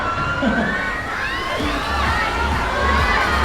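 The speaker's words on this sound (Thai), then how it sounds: "เพราะว่าตอนนี้ทุกคนตะโกนสวยมาก" A crowd of fans shouts and cheers loudly at a fan meet photo session, with overlapping high excited voices calling out praise in a continuous roar that rises and falls.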